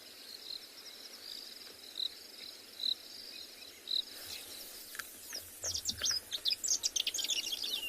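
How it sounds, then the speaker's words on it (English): Fawn-coloured lark singing on a South African safari reserve at sunset, a loud rapid run of bright chirping notes in the second half, over a constant high trill of crickets that runs throughout. "We're just enjoying this little beautiful fawn-coloured lark"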